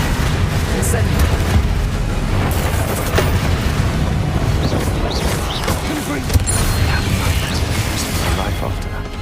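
Incendio fire spell cast in the Hogwarts Legacy video game, a continuous roaring, booming blast of flame amid combat noise, loud and steady throughout, with talking over it.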